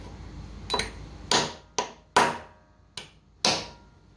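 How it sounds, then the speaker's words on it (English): Hammer blows driving square-headed screws into a servo motor mounting for a table: six sharp, close knocks at uneven intervals, each ringing briefly before fading. "You'll need to hammer them down like so."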